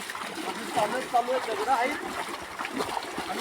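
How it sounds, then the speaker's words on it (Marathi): Water splashing and sloshing as someone swims in a flowing river, with irregular bursts of movement over a steady stream background. "आता मी पण चाललोय बघा पोहायला"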